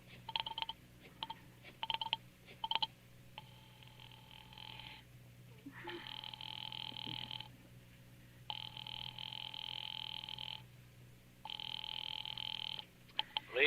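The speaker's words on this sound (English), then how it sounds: "Ringing the police department." A vintage telephone bell rings in repeated long bursts with pauses between them, a call placed to a police department, heard over a low background hum after some earlier clicks and short tones.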